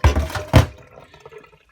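Water rushes into a Hoover Optima OPHS712DF washing machine at the start of a 60-degree wash, with two quick close gushes followed by a fading, trickling tail and no talking.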